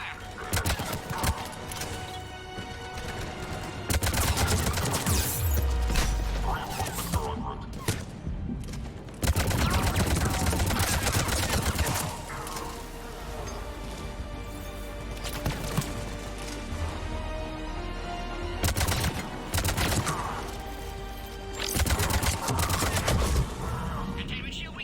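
Rapid gunfire from a Mass Effect 3 firefight on Sur'Kesh, with bursts and volleys of shots overlapping one another continuously, dense and loud, mixed with game voices and combat noise.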